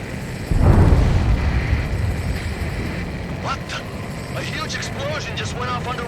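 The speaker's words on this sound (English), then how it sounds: "We're only hearing explosion echoes." A deep, muffled underwater explosion booms in a combat-flight game mission, followed by a rumbling tail as radio voices chatter over it.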